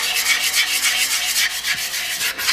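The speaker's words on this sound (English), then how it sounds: "And it's the hand sanding of the part." Rapid back-and-forth scratchy rubbing of sandpaper on a metal wheel hub, hand sanded during a Yamaha FZR restoration, steady strokes repeating close up with no voices.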